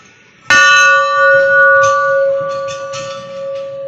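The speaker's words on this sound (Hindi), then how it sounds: "यहाँ पे घंटी, इसको मैं बजाता हूँ" A temple bell at a Buddhist temple in Dehradun is struck once, ringing out loud and close with a bright sustained tone and shimmering overtones that slowly fade, with faint background murmurs.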